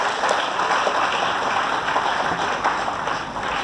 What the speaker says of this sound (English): So once again, big round of applause for Professor Mezzono, sir.